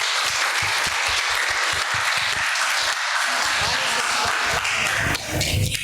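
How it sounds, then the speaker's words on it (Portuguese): A room full of people at a church Mother's Day gathering applauds loudly, with dense, sustained clapping, some sharper individual claps near the start, and a few voices near the end. "Vamos dar uma salva de palmas para ela?"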